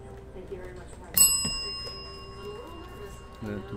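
A bell struck once during a sports card box break, ringing out sharply with a long, bright, sustained tone that slowly decays, with a softer second tap soon after and faint background voices underneath.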